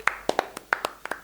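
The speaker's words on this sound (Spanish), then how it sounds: "Me pongo de pie, y quiero que lo aplaudamos, a Iván Wizogrod." People applaud the composer of a film's score, a handful of sharp, separate hand claps spaced irregularly, close and crisp over quiet surroundings.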